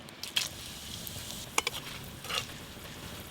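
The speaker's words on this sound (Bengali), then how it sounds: "খিচুড়ির মশলার জন্য ফোড়নে আমি দিয়ে দেবো তেজপাতা," Bay leaf, dried chilli and whole garam masala hit hot oil with a little sugar for khichuri tempering, giving a soft continuous sizzle with a few sharper crackles and stirring clicks.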